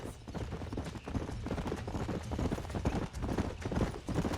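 Horses' hooves clip-clopping in the Western video game Red Dead Redemption, a continuous close rhythm of hoofbeats from several animals moving together at a steady pace.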